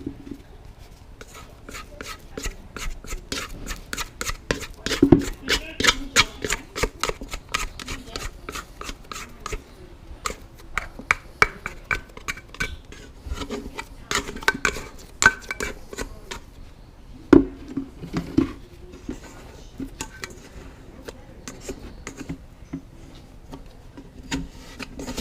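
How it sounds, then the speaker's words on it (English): Dough scraper scooping and scraping dough from a mixing bowl with a small bump in its base, a long run of quiet, uneven rubbing and scraping strokes close by. "I'll use the round side here to scoop, because there's a little bump on the bottom of this mixing bowl"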